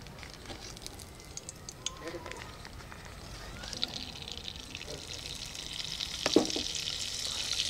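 Butter melting with a little oil in a kadai over a low flame for spicy butter chicken gives a soft, steady sizzle with occasional light clinks, growing slightly louder toward the end.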